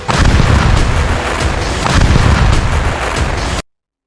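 Israeli air force bombing near the Lebanon border: a loud, unbroken wall of deep rumbling blasts and crackling booms that barely lets up, with no voices.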